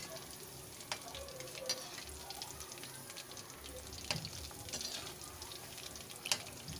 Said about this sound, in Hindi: मुस्तकिल चमचा चलाएंगे ताकि अच्छे से फ्राई भी हो जाएं और अच्छी तरह फ्राई हो जाएं